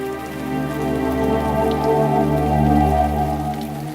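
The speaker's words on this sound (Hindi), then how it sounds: "मिसबा आए ना बेटे, अंदर आ जाओ, बारिश में मत खेल।" Steady rain falls on surfaces outdoors, a dense, continuous patter that holds at an even, fairly loud level throughout with no voices.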